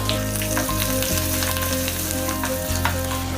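Garlic frying in hot oil for gongura pickle, a steady close sizzle and crackle throughout with an underlying low hum from the stove, and no talking.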